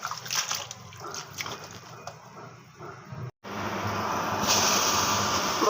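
Fenugreek leaves are washed in water in a kitchen, with continuous nearby sloshing and splashing that briefly cuts out, then resumes steadier and louder.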